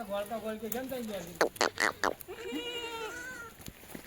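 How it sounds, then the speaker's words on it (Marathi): Goats bleating at a goat market: several wavering, drawn-out calls, close and clear, with a burst of short sharp noises in the middle. "हे बघा दोन दोन बकरे"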